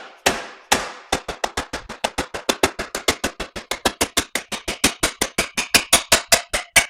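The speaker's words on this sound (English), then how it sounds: "See if we can hammer it out the rest of the way." A Honda CRF250R wheel axle is driven out with a hammer, about thirty sharp metallic blows in a steady, quickening rhythm, loud and close with nothing else heard.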